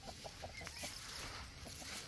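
Chickens cluck at a farm lot in Ubay, Bohol, Philippines, with short repeated calls over steady outdoor background noise.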